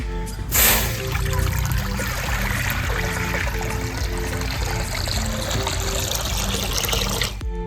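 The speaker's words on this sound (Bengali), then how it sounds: "সব একদম সলিড ডাল সিদ্ধ করে নেবো জল দিয়ে দিচ্ছি" Water is poured into a pot of moong dal lentils set to boil, making a close, continuous splashing trickle that stays steady for several seconds.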